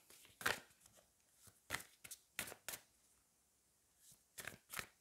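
A tarot card is drawn from a deck with soft, papery swishes and slides, several brief faint rustles spaced irregularly and close by.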